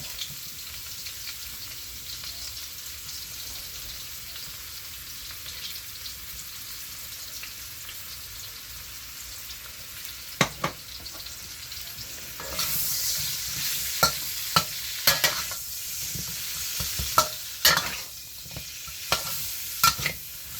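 Onions sizzle and fry in a pan, with a steady crackle that grows louder partway through and irregular sharp scrapes and knocks as they are stirred.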